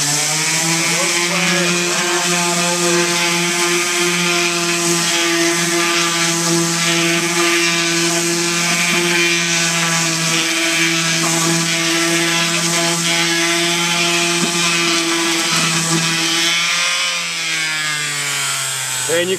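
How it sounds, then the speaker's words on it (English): Electric sander running continuously and loudly as it rounds over the mitered corners of a wooden storage chest, a steady high-pitched whine that shifts slightly in pitch near the end. "just take your sander and you're going to round them over"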